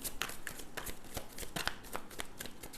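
Tarot cards being shuffled and drawn, a close, soft run of quick riffling flicks and papery slaps in steady bursts, with no talking.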